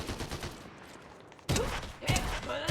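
Turret gunfire from Fortnite crackles quietly at first, then breaks into loud, close bursts of rapid shots with heavy thumps in the second half.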